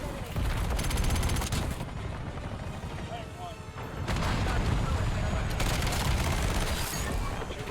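An XM325 heavy gun in Black Ops 7 fires in long sustained bursts of rapid, heavy shots, with a short pause before the firing resumes; voices talk over it.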